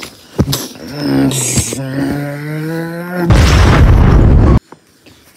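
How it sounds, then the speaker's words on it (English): A big in-game explosion in Minecraft during a battle against mobs: a loud, dense broadband blast lasting over a second, with voiced talk and tonal game sounds before it and a quiet tail after. "That's a really big explosion, huh, people?"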